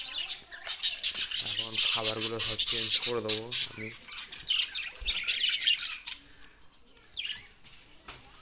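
Budgerigars kept in a home aviary with clay nesting pots chatter in a dense, continuous stream of high chirps and squawks at feeding time, while someone talks over them for the first few seconds.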